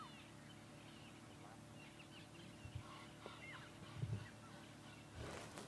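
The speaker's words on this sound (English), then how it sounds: "Egyptian geese." Faint, distant Egyptian goose honks sound a few times over a steady outdoor hush with scattered birdsong at sunrise in the Sabi Sand game reserve, with starlings and orioles nearby.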